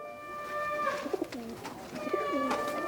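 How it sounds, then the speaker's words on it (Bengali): Adult pigeon from Chennai cooing nearby in two clear rolling bursts, with a steady high tonal hum running behind the calls. "এটা হচ্ছে আমার মেন মানে ধাড়ি পায়রা, দেখতে পাচ্ছেন। এটা চেন্নাই থেকে আনা আমার।"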